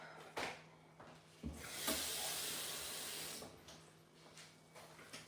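A kitchen tap gushes water in a strong, hissing stream for about two seconds after a few clicks and knocks, then tapers off, with no voices.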